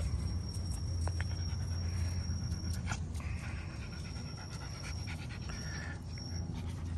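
A black dog pants steadily and close by during a sunny midday walk on a hot day, with a constant low outdoor hum underneath and no talking.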